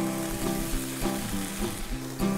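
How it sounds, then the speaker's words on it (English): Slices of venison bacon with an apple pie rub sizzle loudly and without a break in a preheated cast iron pan, a dense frying crackle heard close up with no voices. "Let's cook up a few slices of this venison bacon."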